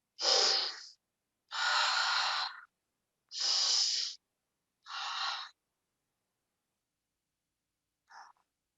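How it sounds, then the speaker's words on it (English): Deep clearing breaths closing a yoga practice: four loud, long breathy exhalations in steady rhythm, close to the ear, followed by a short faint breath after a pause, with no talking. "we're going to end today's practice with our 3 clearing breaths."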